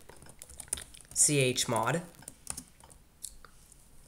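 A computer keyboard clicks in quick, light keystrokes as a terminal command is typed on an Ubuntu server, the taps partly under a person talking close by.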